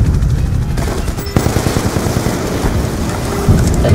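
Rapid bursts of gunfire during a simulated attack in military training, loud and close, dense repeated cracks over a continuous rumbling background with no talk.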